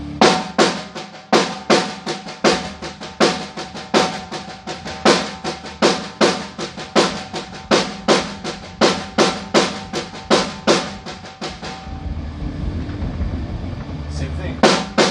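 A drum kit plays steady sixteenth notes with regular accented hits, loud and close, before the beat stops near the end and leaves a softer wash of sound.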